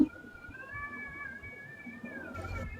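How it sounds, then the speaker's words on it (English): A cat screaming outside a window, a steady wavering high-pitched yowl held across the whole stretch, with a brief burst of other noise near the end. "I think there's a cat screaming outside my window"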